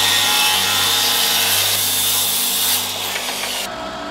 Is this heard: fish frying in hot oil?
no